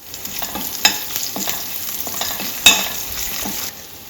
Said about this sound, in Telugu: కొంచెం కరివేపాకు వేస్తున్నానండి